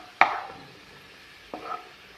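Fried sardines are lifted out of hot oil into a dish, with a sharp metallic scrape and clatter followed about a second later by a softer clink, while faint sizzling hangs in the background.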